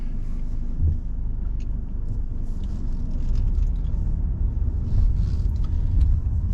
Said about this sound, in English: I'm just going to go for a drive in the C200